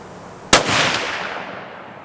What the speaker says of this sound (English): those last two shots went in the same hole